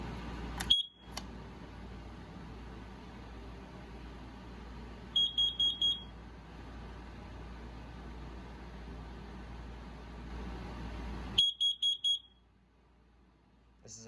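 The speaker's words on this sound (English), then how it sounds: "Here's the first floor carbon monoxide alarm." A first-floor living room C3010 10-year sealed carbon monoxide alarm sounds during a test, giving a single sharp chirp, then two clusters of four loud, rapid high-pitched beeps separated by long stretches of faint hum.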